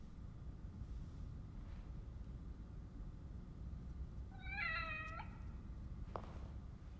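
A cat in the video game The Evil Within gives a single clear meow, rising then falling, over a steady low ambient rumble, followed shortly by a faint click.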